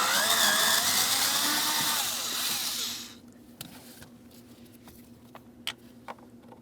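A power tool spins out an 8mm blower motor mounting bolt on a 2007-2014 Ford Edge, a steady whirring run for about three seconds that stops abruptly, followed by faint ticks and clinks of handling.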